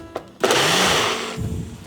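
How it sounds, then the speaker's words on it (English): A kitchen blender pulses lamb sauce ingredients with oil, giving one loud whirring burst of just under a second that winds down quickly after a short tap, with no voices. "And then we're pulsing it, we're not blending it to a pulp."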